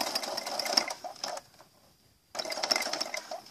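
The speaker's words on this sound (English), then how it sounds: "I'm going back stitch. Back stitch. Now I can sew forward." Sewing machine back stitching along a fabric apron tie, a close, steady mechanical whirr that stops briefly for about a second before resuming.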